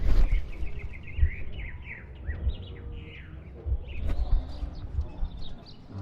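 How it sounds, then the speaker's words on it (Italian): Birds chirping in the video game Sherlock Holmes: The Devil's Daughter, several quick, bright tweets and trills scattered across the scene over low thumps, faint hoof clops and ambient rumble. "Che sento gli uccelli qua."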